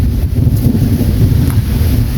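Loud, steady low rumbling of thunder mixed with heavy wind buffeting the microphone, continuous throughout.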